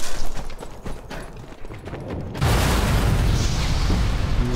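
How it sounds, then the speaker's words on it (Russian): A heavy explosion of a new airplane in the video game Sniper Elite 4 bursts in halfway through, a loud boom that rolls into sustained low rumbling after scattered thuds and clatter. "Замечательный взрыв, да?"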